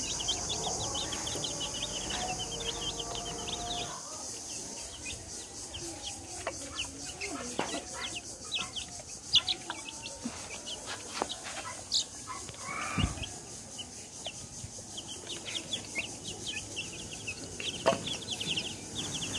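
Fifteen 20-day-old chicks huddle under an overnight light in a brooder, giving steady high-pitched peeping and chirping, close by and moderately loud, with no talk over it.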